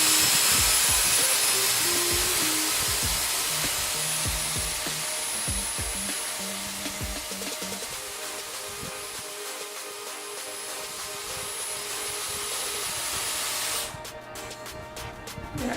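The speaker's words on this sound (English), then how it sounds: "I'm going to then angle it up and just switch my Dyson on" A Dyson Airwrap hair styler blows a loud, steady airy whoosh close by, easing slightly mid-clip, then cuts off sharply near the end.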